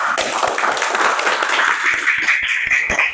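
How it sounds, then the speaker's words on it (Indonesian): Students in an Indonesian school classroom clap together, a cluster of sharp, distinct handclaps coming at an uneven pace, fairly close and moderately loud. "kita tepuk tangan untuk kalian semua"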